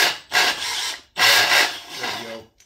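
A Milwaukee M12 cordless drill drives a reamer through a 5/8-inch hole, making two loud, rasping cutting passes separated by a brief pause.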